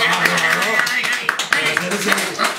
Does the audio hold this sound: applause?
yes